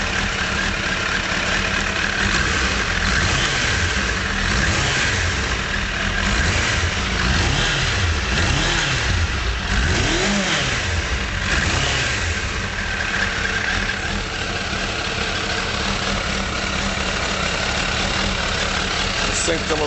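A 2002 Suzuki GSX600F motorcycle running on 2006 carburetors with new needle and seats, engine idling near and loud with repeated rises and falls as the throttle is blipped, a voice faintly under the engine.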